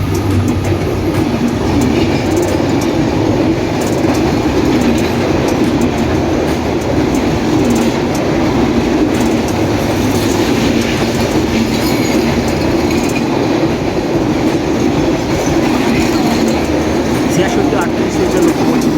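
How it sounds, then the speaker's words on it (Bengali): The 727 Up Rupsha Express rolls into Raninagar railway station on line 1, a loud continuous rumble of wheels and wagons with rhythmic clatter sustained throughout. "727 আপ রূপসা এক্সপ্রেস এই মুহূর্তে রানীনগর রেল স্টেশনের 1 নম্বর লাইন দিয়ে প্রবেশ করছে"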